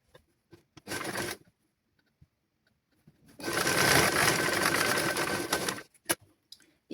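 A tailoring sewing machine stitching children's clothes runs in two bursts, a short run of about a second and then a longer steady whirr of roughly two and a half seconds, with faint clicks in the quiet between.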